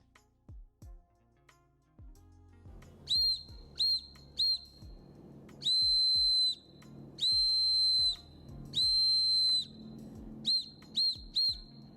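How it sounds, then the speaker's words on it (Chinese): A shrill survival whistle blows an SOS pattern: three quick short blasts, three long sustained blasts, then three short blasts again, loud and clear over a few faint knocks. "当你用在这个哨声的时候呢，就是3声短，3声长，再加3声短。"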